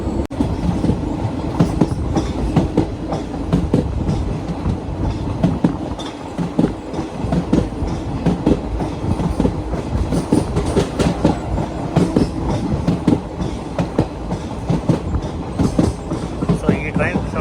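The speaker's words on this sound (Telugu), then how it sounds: "సో ఈ ట్రైన్ సౌండ్ అయితే భలే ఉంటుంది," The Venkatadri Express between Chittoor and Kacheguda runs on rails, heard from inside as a loud continuous rumble with rhythmic clickety-clack of wheels over rail joints throughout.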